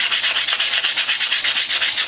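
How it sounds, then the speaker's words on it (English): Steady, rhythmic back-and-forth sanding on a rusty chrome ratchet wrench with no chrome left, a close, even rasping scrape repeating about eight times per second with no voices. "Give it a pretty good little sanding."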